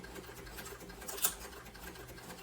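A sewing machine runs in quick, soft stitching pulses on a sling bag, a faint, steady mechanical patter heard close and without talk.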